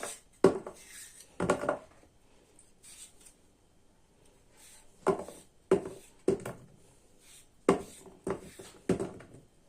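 A potato is sliced with a knife on a board for an oven-baked dinner, giving sharp clicking cuts in irregular clusters with quiet pauses between them, close and clear, with no talk.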